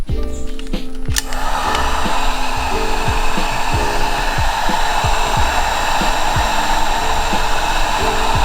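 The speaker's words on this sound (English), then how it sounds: "That's when you kind of bring out the heat gun to hopefully relax it." A heat gun blows a steady, loud, close rushing whine while warming window tint film on a Datsun 280ZX hatch, with faint rhythmic low thumps beneath it throughout.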